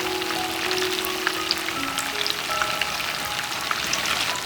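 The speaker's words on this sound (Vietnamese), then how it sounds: "Còn mình sẽ chiên cho miếng đậu được vàng ruộm bên ngoài như vậy nha." Tofu pieces fry in hot oil in a pan, giving a steady, moderately quiet sizzle with scattered crackling pops throughout and no voices.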